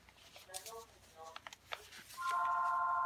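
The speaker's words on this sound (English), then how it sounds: "Sorry about the phone." A telephone rings indoors during a paper-and-fabric crafting session, with short tonal bursts and then a steady electronic tone. People talk alongside it.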